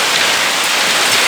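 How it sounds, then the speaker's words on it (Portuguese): Heavy rain mixed with hail pours down in São Paulo, a dense, loud and unbroken hiss of drops striking surfaces nearby, with no voices over it. "Ai, chuva"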